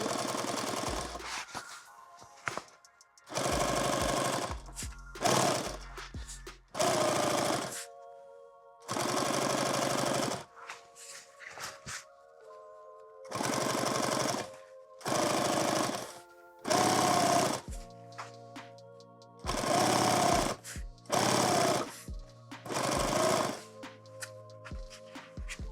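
Sewing machine stitching an XL tool bag, running in loud repeated bursts of several seconds each with short pauses between, its motor pitch shifting across the runs.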